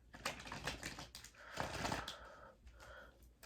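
Tarot cards are riffled and shuffled in quick, papery bursts, with a louder flurry in the middle, close by and with no one talking.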